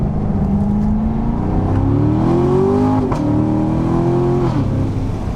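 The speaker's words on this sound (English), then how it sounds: "This is obviously a naturally aspirated V8" A C7 Chevrolet Corvette Stingray's naturally aspirated V8 engine pulls loudly on the road, its pitch rising smoothly under acceleration, easing briefly, then climbing again. Steady tire and wind roar sits beneath the engine, with no talk.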